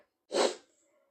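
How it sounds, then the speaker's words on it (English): A single quick sneeze, close and moderately loud, in otherwise quiet surroundings. "I'm going to sneeze really quick"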